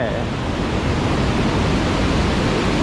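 Close, continuous roar of Tad Sae waterfall in Luang Prabang province, Laos, a dense even wash of falling water with no break.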